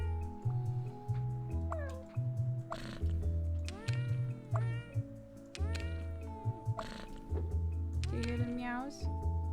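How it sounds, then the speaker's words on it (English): Cartoon cat meows from a cat-organizing game on a screen, several short meows and yowls over looping game music, with an adult talking softly to a child between them. "Do you hear the meows?"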